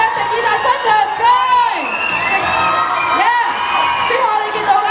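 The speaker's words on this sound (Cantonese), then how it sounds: "可唔可以再次俾啲掌聲，俾啲掌聲，俾啲掌聲，呼呼聲" Crowd at a comic convention stage show cheers and whoops loudly and continuously, with shouting voices rising over a dense, steady roar of excited noise.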